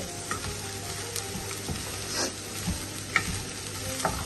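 Green beans for a Kerala bean thoran sizzle in a pan while being stirred, a steady close frying hiss broken by scraping strokes and a few sharp clicks of the utensil, with no talking.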